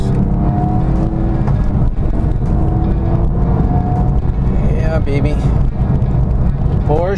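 A Porsche 997 drives along twisty island roads, its engine a loud, steady drone that holds throughout with slight shifts in pitch as it travels.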